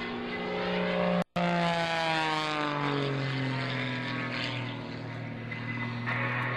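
Patty Wagstaff's aerobatic propeller plane drones steadily at the 2003 Dayton Airshow, its engine pitch sliding and shifting as it twists and turns, fairly close with a brief cut near the start.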